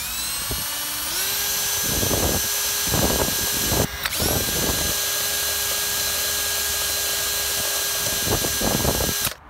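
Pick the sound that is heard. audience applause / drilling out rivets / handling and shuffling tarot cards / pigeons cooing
drilling out rivets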